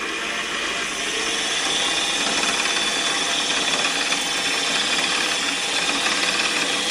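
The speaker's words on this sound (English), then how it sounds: "then we're going to ream" Drill bits with cutting oil ream holes in a fillet knife, a steady, close whirring buzz of the small drill running continuously without pause.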